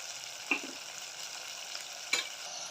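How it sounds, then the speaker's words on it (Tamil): Tomatoes and onions sautéing with a little salt in a pan, a soft steady sizzle with two brief scraping stirs of a spoon, close and quiet. "தக்காளி வதங்க கொஞ்சமாக உப்பு போடுறேன்"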